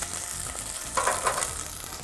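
Onion, shallot and whole peeled garlic frying in a pan for a tomato cream soup: a steady close hiss of sizzling with a couple of brief stirring swells, no voices.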